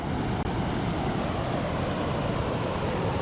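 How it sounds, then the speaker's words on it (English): Steady broadband wash of ocean waves at the beach at Lucky Bay, Esperance, continuous and fairly loud with no distinct breaks, blended with a little wind noise. "nice waves out there as well."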